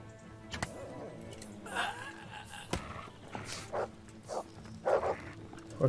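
A dog in the medieval game Kingdom Come: Deliverance gives several low growls and barks in separate short bursts, fairly faint amid scattered combat thumps, with a little talk in the background.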